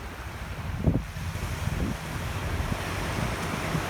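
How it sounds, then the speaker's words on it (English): Steady ocean surf along the shore, a broad hiss of breaking and washing water with gusts of wind buffeting the microphone, continuous and fairly close with a couple of heavier swells. "Walking alongside the water, the ocean."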